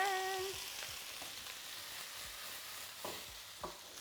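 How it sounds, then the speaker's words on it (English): Vegetables fry in a pan with a steady close sizzle and hiss, with a few soft scrapes as they are stirred. "we're just going to let that sizzle away in there for a wee bit before we bring the rest of the veg in"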